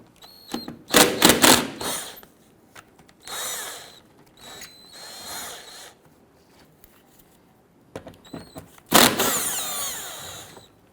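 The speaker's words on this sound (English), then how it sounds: "Remove these two 10mm bolts underneath." A power tool spins out 10mm bolts from the underside of a 2011-2023 Dodge Charger 3.6L V6 during an oil change. Loud, close whirring bursts start and stop, with quiet gaps between them.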